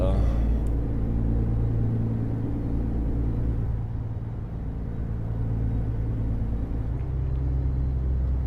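A Peterbilt 389 truck engine in American Truck Simulator downshifts into 7 low. A deep, steady diesel rumble dips briefly at the gear changes, and someone talks over it throughout.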